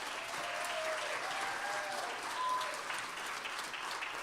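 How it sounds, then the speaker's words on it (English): Sustained audience applause at a Miss Juneteenth Nevada scholarship pageant, a steady wash of many hands clapping throughout, moderately loud and even. "give them a round of applause"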